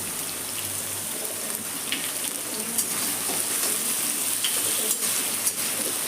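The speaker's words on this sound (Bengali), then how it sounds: "দেখুন পেঁয়াজটা আমার ভাজা ভাজা হয়ে আসছে" Onions sizzle and crackle in hot oil in a pan, with a steady frying hiss and occasional stirring scrapes, close and fairly loud, no talk.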